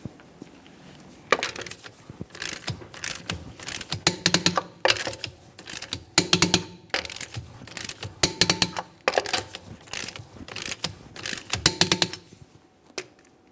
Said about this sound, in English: With the wheel on the ground, we'll torque these in a crisscross manner.